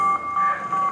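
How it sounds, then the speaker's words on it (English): Repeated electronic beeping from a robot in the Metroid Other M video game, a steady tonal pulse that rises and falls in quick cycles at moderate volume with no talk over it. "Why is that thing beeping?"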